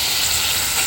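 Large dried fish coated in chili powder fries in hot oil, giving a loud, close, unbroken hiss of sizzling.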